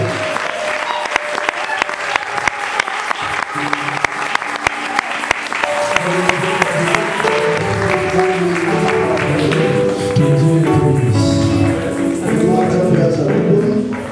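A church congregation applauds at a sermon, producing dense, sustained clapping and crowd acclaim that fills the room, with voices and music rising beneath the applause.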